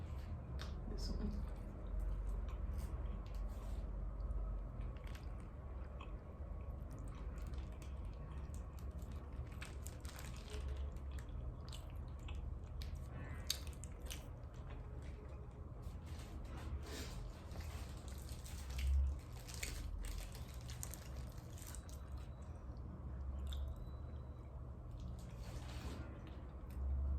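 Close, soft, wet chewing and biting of birria tacos dressed with green sauce, with faint squishing and crunching over a low steady background hum.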